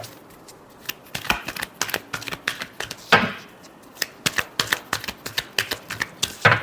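Tarot cards are shuffled up close in a quick series of crisp riffling slaps and flicks, fairly quiet, with no talking.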